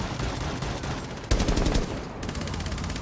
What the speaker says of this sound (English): Oh, they're shooting me from above.